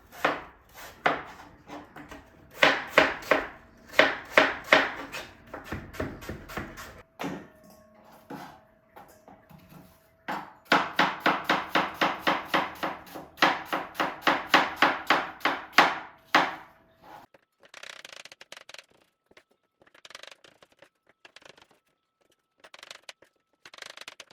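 Apples are sliced into thin 5 mm pieces for a gluten-free apple tart, with rapid runs of sharp knife strokes on a cutting board coming in bursts and pauses, close and clear with no talking.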